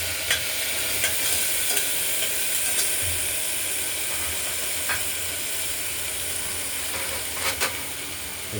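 Spices for masoor dal tempering in hot oil inside a pressure cooker make a dense, even sizzle, with a few faint clicks and scrapes of stirring breaking through.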